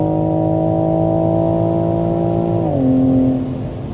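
A Toyota Supra Mk5 with a decat exhaust holds a high, steady rev, then drops sharply in pitch as the revs fall back. It sounds loud and close, with no voices.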